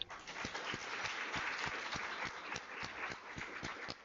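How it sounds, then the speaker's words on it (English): Seminar attendees clap to welcome a deputy minister at a research seminar, the applause falling into an even, rhythmic beat of sharp claps over a busy wash of hands, sustained for about four seconds. "Let's welcome her with a round of applause."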